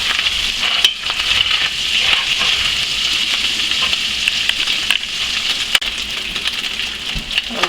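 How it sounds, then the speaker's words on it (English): Pork sausage browning in a pan for gravy, a steady loud sizzle and crackle with occasional scraping and stirring clicks, no talking. "the sausage is getting brown now"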